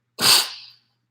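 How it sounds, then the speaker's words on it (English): A single sharp, breathy sneeze, close and sudden, lasting well under a second before quiet returns. "Oh, I gotta sneeze."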